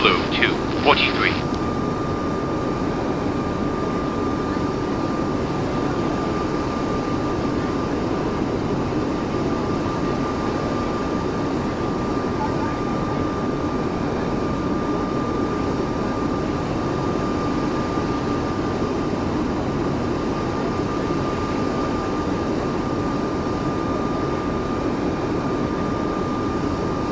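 Steady engine and air roar fills the cabin of an Airbus A220 airliner in flight from New York Kennedy to Cincinnati, a constant broadband drone with a faint steady tone, alone after a brief chime at the start.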